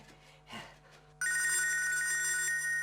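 After a brief soft rustle, a telephone bell starts ringing loudly and continuously, a bright metallic trill that fills the rest of the moment.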